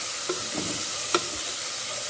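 Carrot and garlic sautéing in a pan for rice make a constant soft sizzle, with a couple of light utensil taps and stirring sounds, and no voices.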